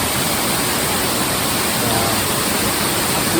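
Waterfall in the Brecon Beacons, Fforest Fawr, heard from close by as a steady, loud broadband roar of falling water that holds unchanged throughout with no break.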